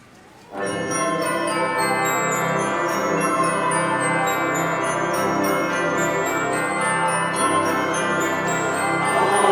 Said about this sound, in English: Ring those Christmas bells.